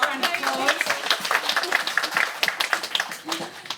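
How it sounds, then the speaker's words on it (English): An audience at a book launch for a debut novel claps together, a dense, continuous patter of many hands in a room with some voices mixed in, fading slightly toward the end. "Yes, round of applause."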